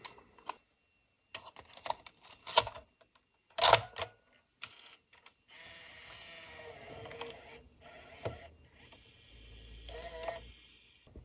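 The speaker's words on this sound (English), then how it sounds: "And insert the tape." A Hi8 tape is pushed into the cassette mechanism of a 1998 ProScan PRO998LH camcorder, giving close, sharp clicks and clunks followed by a steady whirring motor hum as the transport loads.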